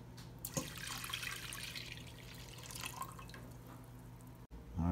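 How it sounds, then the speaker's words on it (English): Orange juice pours into a turkey brine mixture, a steady close liquid splashing with some dripping, ending in a brief pause and a soft bump. "what we're going to do next is a cup and a half of orange juice"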